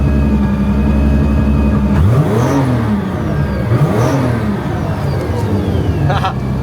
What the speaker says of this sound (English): So we're gonna do throttle rev.